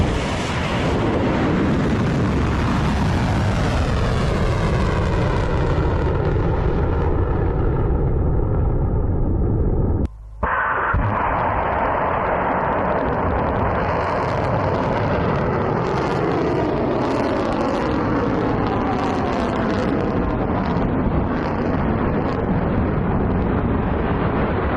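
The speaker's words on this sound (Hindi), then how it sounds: "ईरान ने जो मिसाइलें दागी हैं, जो कामयाबी से सातों के सातों देशों पर हिट हुई है, उसका वीडियो भी जारी किया है ईरान ने" Iranian missile strikes roar with a sustained, heavy rumbling blast whose pitch slowly sweeps downward, broken by a sudden sharp cut before another long, loud roaring surge; no voices.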